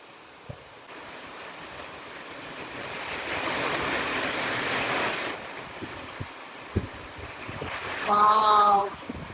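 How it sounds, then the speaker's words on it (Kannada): Heavy rain pours down as a broad, steady rushing wash, swelling in the middle with gusts of wind hitting the microphone, and a voice speaks briefly near the end. "ಜೋರ್ ಮಳೆ ಬರ್ತಾ ಇದೆ,"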